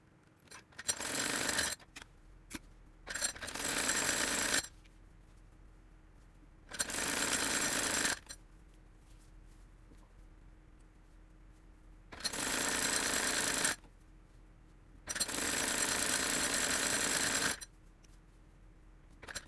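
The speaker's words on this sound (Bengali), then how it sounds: "এই দিক থেকে সাইডের সেলাইটা দিব" A sewing machine stitches the side seam of a maxi dress in several loud, buzzing runs, each a few seconds long and separated by quiet pauses.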